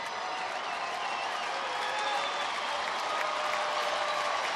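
Baseball stadium crowd of about 36,000 cheering and clapping for Joe Nathan and the Texas Rangers at night, a steady distant wash of applause and voices holding evenly throughout.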